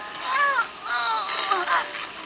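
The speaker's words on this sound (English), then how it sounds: "One more chirp from you, little bird, and you'll regret it." Harsh bird cawing from the video game SWTOR, a few loud crow-like calls in quick succession, close and prominent.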